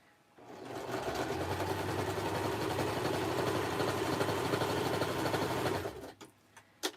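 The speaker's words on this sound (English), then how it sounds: "The sewing machine is whisper quiet." A sewing machine runs steadily for about five seconds, a close, even mechanical whir that stops abruptly, followed by a few faint clicks and handling noises.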